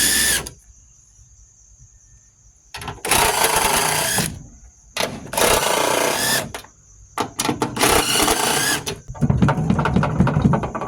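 Power tool, likely an impact driver or drill, taking bolts off the pump of a cooling unit from an X-ray tube assembly: three or four loud close bursts of whirring and spinning, separated by short pauses.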